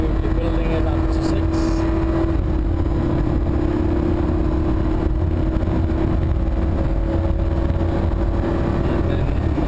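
A Lamborghini Huracan engine builds revs smoothly on the Thruxton race track, a steady, loud, droning roar heard from inside the car with a rising whine, while a voice talks over it.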